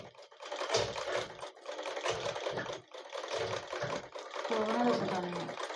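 Domestic sewing machine stitching during a beginner tailoring lesson, in several short whirring bursts separated by brief pauses, fairly close, with someone talking over it.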